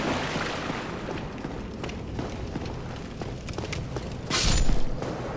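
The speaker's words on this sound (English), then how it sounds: "That is the sound of somebody dying." Dark Souls character death sound effect: a steady noisy game backdrop, then a brief louder swelling burst near the end.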